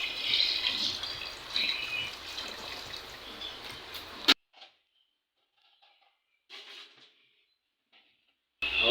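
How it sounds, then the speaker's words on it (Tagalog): Hot water pours into a pot for beef nilaga, a continuous splashing rush that cuts off abruptly, followed by faint scattered clinks and a brief drip before the water sound returns at the end. "lalagyan ko ng mainit na tubig para mas madaling gumulo"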